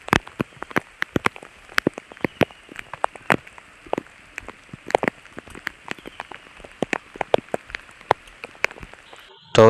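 Rain falls on a village during a monsoon downpour, with close, irregular drops tapping sharply on a surface against a soft, steady hiss.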